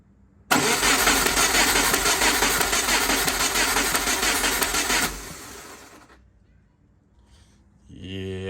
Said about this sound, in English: Okay, cranking the engine.